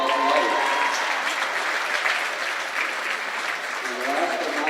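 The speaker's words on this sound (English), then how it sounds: "The round of applause for Riley." Steady audience applause fills a high school girls basketball event, Beaver Dam at Watertown, sustained and fairly loud throughout without a break.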